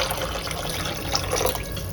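Water poured into a pan of cooking peas and vegetables, a close, continuous splashing and gurgling pour with no talking.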